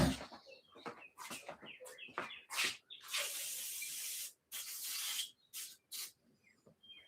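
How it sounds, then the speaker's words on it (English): Repeated short bursts of spray hiss from a nozzle as cleaner is sprayed on a tool, some quick and choppy, others longer and sustained, close up with rubbing sounds between them. "we'll spray that with something and clean it up"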